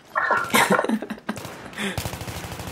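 Gunfire in the video game Battlefield 3, heard as loud bursts of rapid shots and sharp cracks in quick succession, filling the clip with dense, close, clattering fire.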